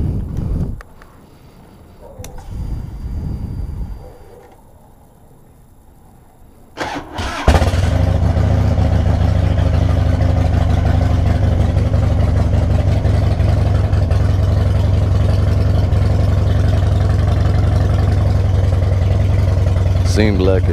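2004 Harley-Davidson Dyna Wide Glide cranks and fires up, then settles into a steady, loud, rumbling idle, close by; a voice is heard briefly before the engine catches.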